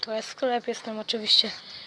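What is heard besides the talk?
No everyday noise stands out behind the speech.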